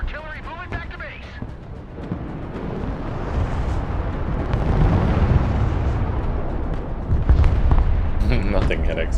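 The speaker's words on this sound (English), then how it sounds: "Rocket artillery at your command, sir." Rocket artillery fire in the Broken Arrow war game, a dense, swelling roar of launches and blasts that builds over several seconds, with game voices and chatter around it.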